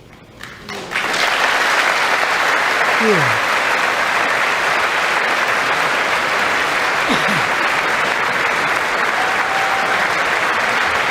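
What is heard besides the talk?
applause from standing audience at State of the Union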